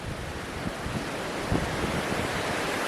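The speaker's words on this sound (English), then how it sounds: "You can hear the winds blowing." Gusty wind blowing hard down off a lake onto a hillside track a couple of hundred metres above the water, a steady roaring rush with buffeting gusts against the microphone, no voices.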